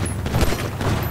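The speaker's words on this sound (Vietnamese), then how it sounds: "À, nó bắn mình rồi" Gunfire in the video game GTA 5 comes as a dense, loud burst of overlapping shots and booms, rattling close by for about a second with no voices over it.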